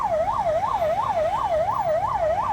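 A Telangana government ambulance held up in a traffic jam near the NOMA Function Hall on Mallapur road sounds its siren, a loud, close, steady up-and-down wail repeating roughly three times a second over low road rumble.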